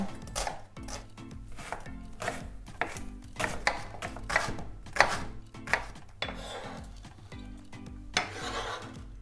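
A knife chops rapidly on a cutting board, a close, uneven series of sharp taps as a large onion is diced.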